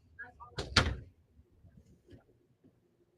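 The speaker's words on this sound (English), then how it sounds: "Let me shut this door because I got a lot of background noise." A door is pushed shut with two quick thuds close by, the second heavier, followed by faint shuffling and low room noise.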